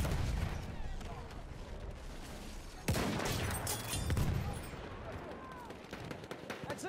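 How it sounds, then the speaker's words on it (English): An enemy machine gun fires in a war video game, its rattling bursts blending into steady distant battle gunfire and a sharp blast, with voices talking throughout. "That's an enemy machine gun."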